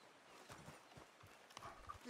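Rhythmic hoof clip-clops from a horse in the video game Red Dead Redemption 2, fairly faint, with a voice speaking over them.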